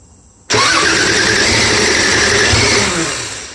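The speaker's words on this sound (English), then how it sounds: "First startup in his car." Subaru SVX 3.3 liter engine in a 1999 Subaru Outback firing up for the first time: a sudden loud catch after a quiet moment, then a steady roaring run that eases off slightly toward the end.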